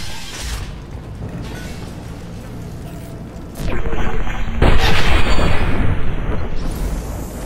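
Gunfire in the video game Mass Effect 2 from Blue Suns mercenaries and Vorcha, dense rattling shots and booms that grow louder and heavier partway through amid mechanical clatter.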